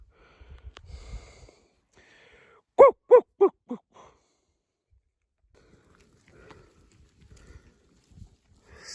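Sheep bleat on a foggy mountain hillside, a short run of four loud, close calls in quick succession, with faint rustling and quiet stretches around them.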